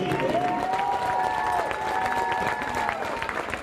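An arena crowd applauds and cheers steadily at the NCAA Division III women's lacrosse championship, Middlebury vs. Salisbury. The clapping is loud, dense and continuous, with raised voices and whoops mixed in throughout.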